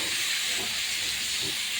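Green jackfruit curry with salt and turmeric frying in oil gives off a steady, bright sizzling hiss with a couple of soft low thumps as it is stirred.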